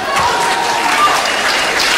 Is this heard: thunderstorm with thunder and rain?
no